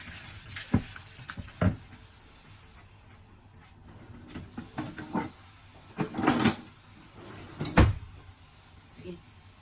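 Lentils being washed by hand in water for a vegetable soup, with a few sharp splashy swishes and clatters against a quiet room background, sounding close and intermittent.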